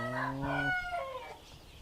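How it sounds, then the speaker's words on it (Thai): A rooster on a fighting-cock breeding farm crows once, loud and close, a long harmonic call that rises then trails off into quiet farmyard background. "อันนี้จะเป็นพวกพ่อไก่ครับ"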